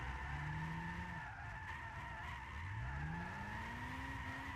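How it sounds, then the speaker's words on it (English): A low-horsepower budget drift car in Gran Turismo 6 slides with a continuous screech of squealing tires over a droning engine that dips and climbs in pitch, sustained and steady throughout. "It's weird drifting something that has such little horsepower because I'm not really used to it."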